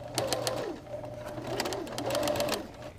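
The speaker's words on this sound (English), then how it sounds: "I'm going to sew between these two spots" A sewing machine stitching a jacket's center back lining seam: a close, continuous whirring hum with rapid needle ticks, rising and falling in speed over a few seconds.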